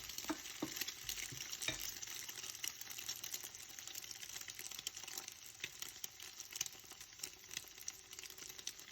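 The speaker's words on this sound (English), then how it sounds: "When the eggs are slightly golden, add the rice." Rice stir-fried with eggs in a heavy-bottomed pan, a faint continuous sizzle with light, irregular scraping and tapping of a utensil throughout.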